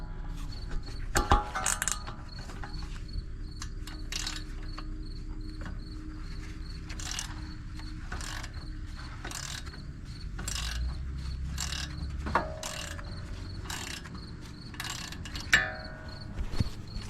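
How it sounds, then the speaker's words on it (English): A hand ratchet working on suspension bolts of a 2012 Ford Mustang during a strut and brake repair, with repeated bursts of rapid clicking close by and occasional metallic clanks between them. "So I'm gonna start working on some of these bolts here."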